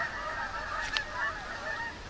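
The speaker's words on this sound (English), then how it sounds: "Just gonna wait for the birds to stop screaming." Geese honk outdoors in a faint, steady chorus of nasal calls, distant and repeated, with one sharper cry standing out near the middle.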